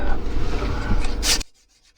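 Dried primer in a boat bilge is scuffed by hand, a loud, close rasping rub that runs steadily for over a second before abruptly stopping into near silence.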